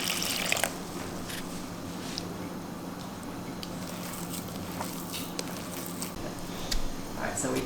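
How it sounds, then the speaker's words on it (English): Water trickles and splashes in small additions into dough for Lobio, a Georgian bean dish, heard faintly and intermittently amid kitchen background noise, with voices talking nearby. "Gonna add water, but it looks like you're gonna add it a little bit at a time"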